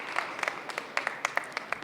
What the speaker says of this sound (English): Let's have a big round of applause for Michel.